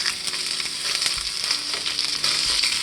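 Italian pork sausage frying in a pan for a Spanish omelet, a dense, continuous crackling sizzle close up with occasional scraping stirs and no talking.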